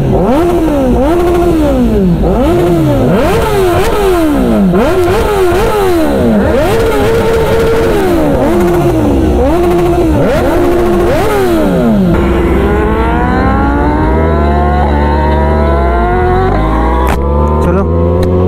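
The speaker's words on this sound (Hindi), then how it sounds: "सो अपने बाइक का आवाज़ सुनने के लिए खड़े हैं लोग।" A Kawasaki ZX-10R sportbike engine revs hard and close, with repeated sharp rising and falling blips that end in a long climbing rev. A crowd stands nearby.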